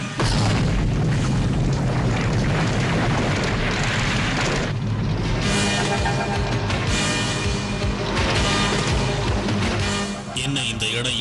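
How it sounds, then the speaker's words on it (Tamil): Cartoon volcano eruption: a dense, continuous roaring rumble with booming bursts and a crackling rain-like hiss, loud throughout and easing slightly near the end. "அந்த எரிமலை வெடிச்சு சிதறிக்கிட்டு இருக்கு"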